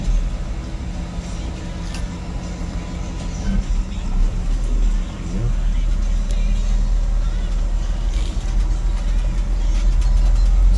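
A restored 1955 Chevrolet pickup with manual steering and power disc brakes on the road, a steady loud engine and road rumble throughout, with a voice speaking briefly over the drive.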